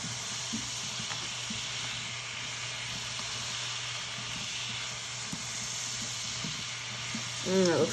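Carrots and celery for a pot roast simmer in a pot with a steady, soft sizzle and hiss that continues alone throughout.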